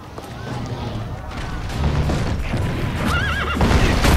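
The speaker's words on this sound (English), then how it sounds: "Woohoo, horse." A horse neighs and gallops in Assassin's Creed Brotherhood amid battle noise and cannon booms, with a whinny rising near the end over steady game clatter; talk sounds faintly underneath.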